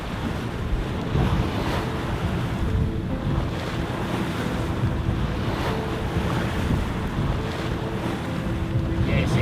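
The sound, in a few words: boat moving through tidal overfalls with wind and current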